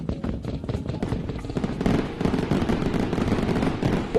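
Fireworks crackle and pop in a dense, continuous barrage of sharp bursts, loud and close, with almost no gaps between the reports.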